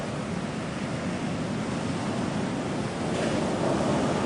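Ocean surf with set waves rolling in at a surf spot, a continuous roaring wash of breaking water and wind noise that swells slightly louder toward the end, with no voices.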